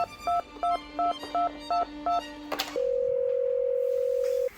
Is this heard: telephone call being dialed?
yes